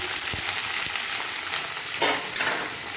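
Yardlong beans sizzle in hot oil in a pan with chili and bay leaf, a steady close crackling hiss with a few louder bursts partway through and no talking.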